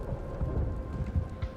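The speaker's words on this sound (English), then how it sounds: "It's thunder" Thunder rumbling through a rainstorm in the video game Mass Effect Legendary Edition, a steady low roar of rain with a few deeper swells, heard alone with no talk.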